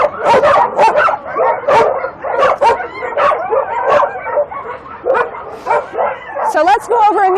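Six dogs crowded in a tiny cage on a dog meat farm bark, yip and whimper continuously up close, loud and overlapping, with no break in the din.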